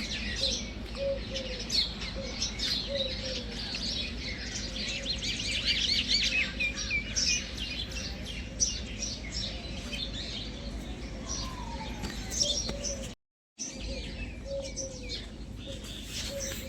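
Small birds chirp repeatedly outdoors, busy overlapping tweets over a low background hum, fairly close and steady.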